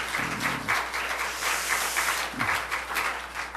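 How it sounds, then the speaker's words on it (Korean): A Korean church congregation at a Sunday afternoon service applauds with steady, dense clapping that continues evenly from start to finish. "우리 학생들 격려 축복의 박수 한번 해주시기 바랍니다"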